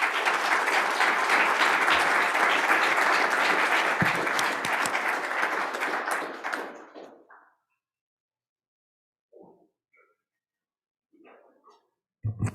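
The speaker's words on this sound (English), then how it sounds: "everybody, please give them a round of applause." Conference audience at a Salton Sea summit applauds a panel discussion: a full, steady round of clapping for about six seconds that tapers off into near silence, followed by a few faint stray knocks and movements.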